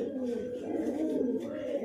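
Fancy pigeons coo continuously in a loft, a dense, close, throaty murmur with overlapping calls.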